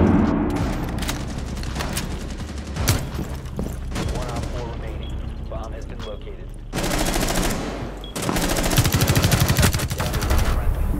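Rapid gunfire from a shotgun fight in Rainbow Six Siege crackles throughout, dense overlapping shots ringing close and loud, with bursts intensifying toward the end while players talk over the action.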